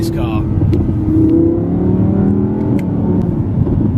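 A 2015 Audi R8 V10 Plus, sport exhaust open and dynamic mode engaged, revs up loudly from inside the cabin. Its engine note climbs and swells steadily under people talking.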